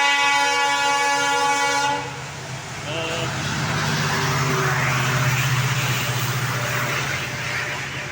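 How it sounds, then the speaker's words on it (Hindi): A train passes near the railway track, opening with a loud sustained horn blast, then a heavy rolling rumble of wagons close by. "आगे देखिए ट्रेन आ रहा है, उधर ट्रेन आ रहा है"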